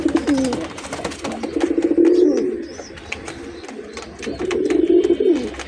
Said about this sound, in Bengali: একেবারে ঝুমা পাখি মাদিটা